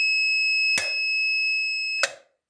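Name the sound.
electronic buzzer beeping as a reminder on a tractor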